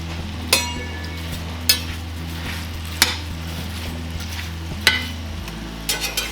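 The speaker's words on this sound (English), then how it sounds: "You're going to stir them around so they're a little coated with butter." Sliced apples and butter are stirred in a pan, with a soft, steady sizzle under sharp utensil scrapes and clinks against the pan every second or so.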